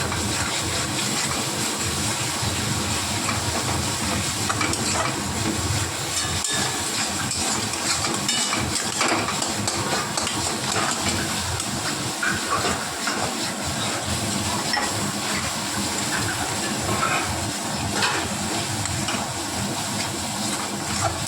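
Masala paste for dahi potol (pointed gourd in yogurt), cooked without turmeric, sizzles and hisses steadily in hot oil, a dense continuous frying crackle held close and fairly loud for the whole stretch with no talking.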